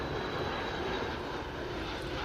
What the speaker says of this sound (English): RB211 turbofans, engines you'll find on many of today's civil aircraft